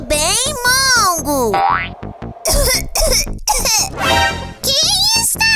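Animated cartoon character coughing, several short exaggerated coughs mixed with childlike voices, cartoon boing effects and playful sounds throughout.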